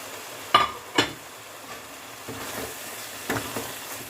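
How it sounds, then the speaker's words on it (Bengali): Chopped spring onion stalks hit a pan of cooked-down spices with a continuous low sizzle, marked by two sharp clinks early on and a duller knock later, close and moderately loud. "এবার এর মধ্যে দিয়ে দেবো কেটে রাখা পেঁয়াজ কলিগুলো।"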